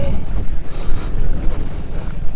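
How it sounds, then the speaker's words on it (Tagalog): Strong wind buffeting the microphone at a campsite in Cavinti, Laguna, a loud continuous low rumble with gusty swells and no voices. "Grabe, hangin dito."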